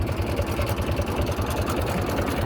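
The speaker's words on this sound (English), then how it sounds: "This zetor tractor here is a farm tractor." Zetor 3320 farm tractor engine idling, a steady, close diesel putter with an even rapid pulse that runs unbroken throughout.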